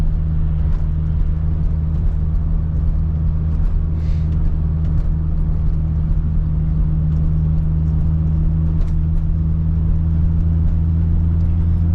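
Steady low engine and road hum from inside a closed silver Acura RSX, constant and even throughout, with no one talking.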